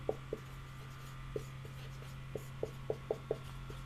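Faint scratches and taps of writing on a board in a physics classroom, coming in irregular strokes over a steady electrical hum with no talking.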